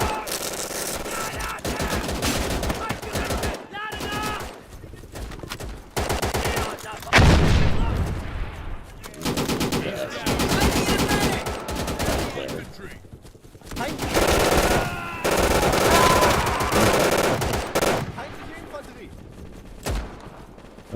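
Heavy gunfire in Easy Red 2, a World War II shooter on Xbox: dense bursts of rifle and machine-gun fire and distant booms come in waves across the whole stretch, with a voice now and then underneath.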